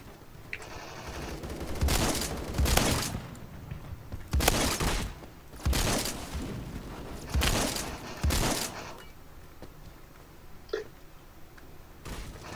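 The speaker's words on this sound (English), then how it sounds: "I'm just watching bullets whiz by me" Gunfire in the Phantom Forces video game, several loud bursts of rapid shots arriving in waves with brief lulls between, the last burst after a longer pause.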